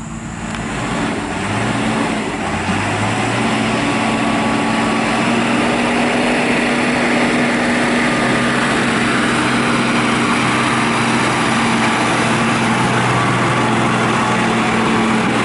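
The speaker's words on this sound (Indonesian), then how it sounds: "Bagian ini adalah bagian perataan yang dilakukan oleh motor grader" A motor grader levels a road on a construction site, its engine droning steadily and loudly with a rising tone early on, heard throughout without a break.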